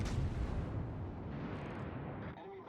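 Heavy naval gunfire from the SMS Nassau's guns in World of Warships: Legends, a loud booming salvo with a long rumbling tail that fades over a couple of seconds.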